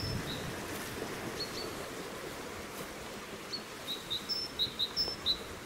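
Small birds outdoors near an abandoned pool site give a few faint, high, short chirps that cluster toward the end over a soft, steady background hiss, with no talking.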